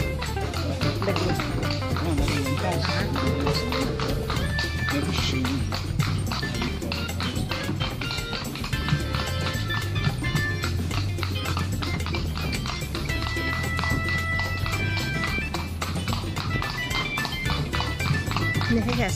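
A shod horse's hooves clip-clop steadily throughout a ride at Plantation Bay, with a continuous rhythmic clatter under people talking nearby.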